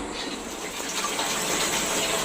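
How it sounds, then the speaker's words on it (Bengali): Water runs steadily from a tap while fish are washed, a continuous loud close gushing hiss with no breaks and no talking. "ধুয়ে নেই, মাছগুলো কি পিচ্ছিল?"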